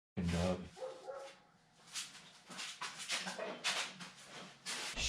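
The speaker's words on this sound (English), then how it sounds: "That fucking dog." A dog barks repeatedly in short, rough bursts, fairly faint and somewhat distant, mixed with other noise and a voice.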